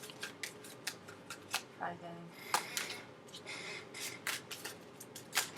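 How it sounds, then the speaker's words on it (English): Tarot cards being shuffled by hand, with repeated crisp riffling bursts and soft flicks in an irregular rhythm, close and fairly quiet, while someone talks briefly. "let's call that the last shuffle"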